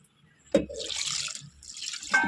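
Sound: water poured into cooking pot

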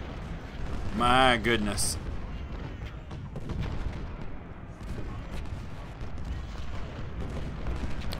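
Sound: artillery fire in Ultimate General: Civil War video game

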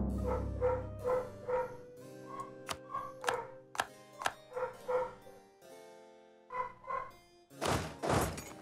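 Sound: dog Ace barking upstairs

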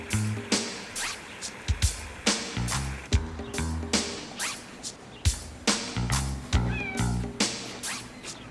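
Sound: cat meowing

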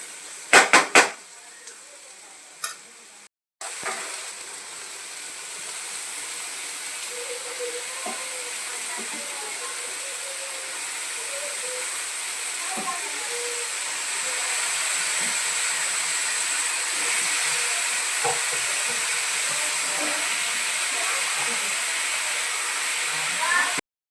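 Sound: ridge gourd sizzling as it is added to a hot pan

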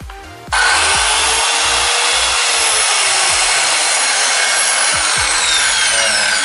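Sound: Crown CT15188-185 circular wood saw running

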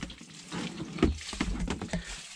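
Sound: water flowing from an opened tap, gravity-fed

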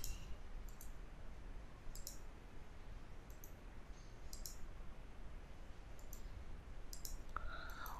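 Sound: computer mouse clicking in Photoshop

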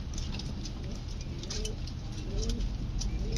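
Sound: pigeons cooing

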